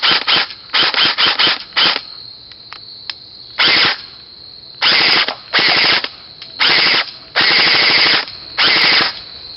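A Tokyo Marui airsoft gun fires tracer rounds on full auto in loud, close bursts of rapid buzzing shots, short at first and then longer strings separated by brief pauses.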